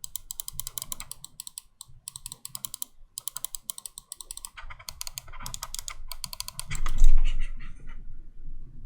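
Rapid bursts of crisp clicks from a Pulsar X2 Mini gaming mouse, its shorter buttons pressed in quick runs with brief pauses between, close and alone.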